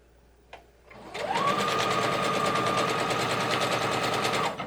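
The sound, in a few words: sewing machine stitching quilt block pieces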